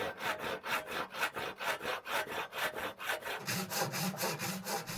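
A hand saw cuts through hard persimmon wood for a woodcarver's traditional rice-cake stamp, each rhythmic back-and-forth stroke rasping loud and close in a steady cadence.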